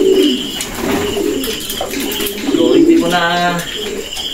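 Grizzle stockbreeder pigeons coo in low throaty phrases, close by, while someone talks over them and softer chirps and a bit of wing rustle mix in.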